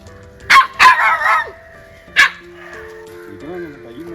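A dog barks three times nearby, two quick barks followed by a third after a pause, with faint background voices and a brief whine, during a rescue by local people.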